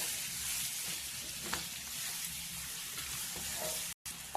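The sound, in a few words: bottle gourd pieces stirred and frying in oil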